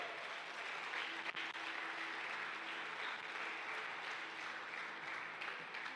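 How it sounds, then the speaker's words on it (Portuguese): Sustained applause from a church congregation during a Portuguese-language healing and deliverance service in Barretos, São Paulo, a dense steady clapping that fills the whole stretch without pause. "Você podia aplaudir Jesus numa dessa"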